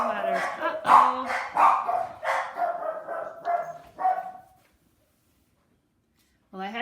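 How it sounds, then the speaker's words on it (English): A small dog barks in a string of sharp, rhythmic yips for several seconds, fairly close, then falls silent before a final bark at the end. "I had to make my silly dog stop barking"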